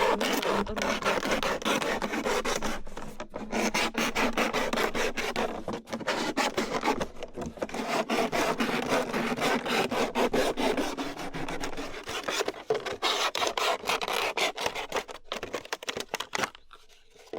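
Wood being cut by hand in the taiga forest, a steady, loud rasping and scraping that runs almost without pause, broken only by a few short gaps.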